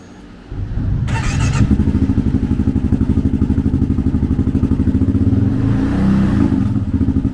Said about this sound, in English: Powered by a 652cc single-cylinder engine, the KLR puts 42 horsepower and 39 foot-pounds of torque through a 5-speed transmission.